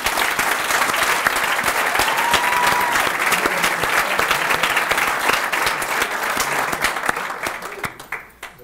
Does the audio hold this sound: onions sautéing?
no